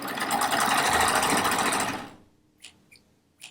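A serger sewing machine stitches with metallic thread while rag quilt pieces are assembled. It whirs loudly and steadily for about two seconds, then stops, followed by a couple of small mechanical clicks.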